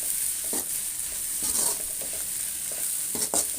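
Curry leaves and coriander frying in a pan for a fish kulambu, a bright sizzle with intermittent scraping stirs of a spoon against the pan.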